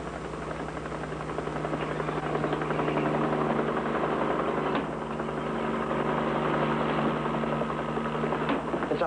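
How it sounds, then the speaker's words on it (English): A highway patrol helicopter's engine and rotor give a steady, droning hum with a faint rhythmic beat, held at a constant level throughout with no talking. "It's a highway patrol copter."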